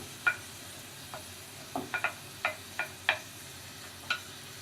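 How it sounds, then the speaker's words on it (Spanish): Onion and leek sautéing in a pan, a soft background sizzle broken by about eight sharp, separate scraping clicks of stirring spread unevenly through the stretch, fairly quiet overall with no talk. "Lo que hacemos ahora es empezar a rehogar. En este caso podemos empezar con la cebolla,"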